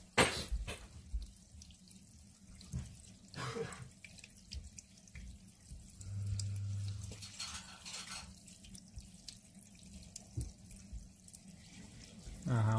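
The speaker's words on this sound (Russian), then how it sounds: "вот унитаз смыли" A household toilet being flushed, its refill water then running and gurgling softly through the plumbing, a quiet steady trickle broken by a few clunks and knocks.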